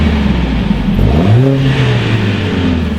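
Mercedes-Benz A45 AMG engine in a workshop, on stock exhaust before an Armytrix system is fitted: idle rumble, then a quick rev rising sharply and holding at a high drone, close and loud, with no talk.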